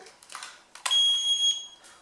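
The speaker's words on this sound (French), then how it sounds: "Vous entendez le petit bip, c'est qu'il fonctionne." A single high electronic beep from an intense pulsed light hair removal device sounds up close, held for about half a second after a few soft handling clicks.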